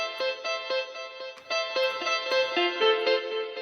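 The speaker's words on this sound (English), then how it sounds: "You have delay." SYLO VST synth with its delay effect, sounding a rhythmic sequence of bright, buzzy synth notes whose repeats echo softly after each hit; a short, steady pattern without any talking.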